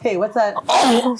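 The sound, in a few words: sneeze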